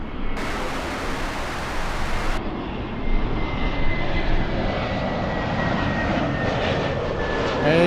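A fixed-wing airplane lands on runway 24 right under LA Tower control, its engines a steady, loud broadband roar that holds throughout with no voices.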